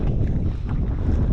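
Steady wind on the water while fishing for snapper buffets the microphone with a continuous low rumble, with faint splashing of water in the background.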